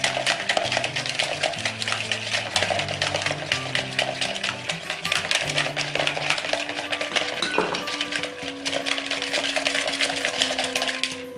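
A spoon stirs a seasoned vinaigrette-like mixture with black pepper and salt in a bowl, giving steady, close scraping and clinking against the dish under background music, with no talk.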